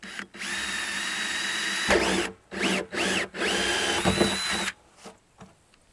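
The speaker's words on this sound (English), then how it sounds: "let's get the hole drilled. We go towards the bottom a bit." A power drill fitted with a hole saw bit cuts into a plastic rain barrel near its bottom, whining loudly in several sustained bursts with brief pauses and speed changes, close up and without talk.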